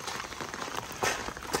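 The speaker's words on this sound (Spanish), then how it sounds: "aunque esté lloviendo" Light rain pattering steadily on a mountain trail in the sierra, a soft continuous hiss of drops with a slightly heavier burst midway, close and even throughout, no voices.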